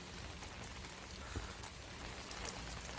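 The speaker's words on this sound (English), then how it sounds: "it's raining right now" Rain falling outdoors during a tropical storm as the wind eases, a steady close patter on surfaces with scattered louder drops and taps, no voices.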